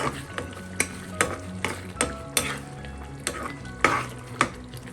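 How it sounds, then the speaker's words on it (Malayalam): Pepper squid curry being stirred in a pan after curry leaves go in, with a spoon scraping and tapping in irregular strokes over a soft sizzle. The stirring is close and clear and no one speaks. "ലാസ്റ്റ് ഒരു തണ്ട് കറിവേപ്പില, ചേർത്ത് ഇളക്കാം."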